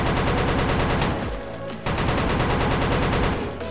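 Sniper rifle fire in the video game Blackshot, a dense, loud burst of shots with a brief drop in the middle, then continuous heavy gunfire again.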